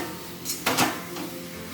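Dal for Indian sambar is poured into a pot, making a brief soft splash and clatter over a steady background hiss.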